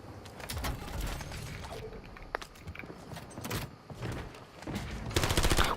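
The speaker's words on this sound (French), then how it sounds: "On me donne une mitrailleuse." A machine gun firing in Warzone, bursts of rapid shots coming in uneven clusters amid game noise and handling clatter, loudest and densest toward the end.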